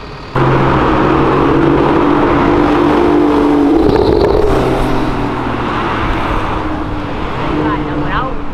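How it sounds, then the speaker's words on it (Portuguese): A turbocharged Honda Civic Si engine of about 600 hp roars loudly and continuously nearby, its low rumble steady with slight revving, while voices talk over it. "O ronco tá muito forte"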